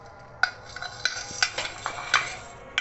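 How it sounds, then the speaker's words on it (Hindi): Kamarkas gum resin being lightly fried and stirred in a pan, with a run of sharp spoon-on-metal scrapes and clicks over a low sizzle, close and without talk. "कमरकस को भी हम हल्का सा फ्राई कर लेंगे"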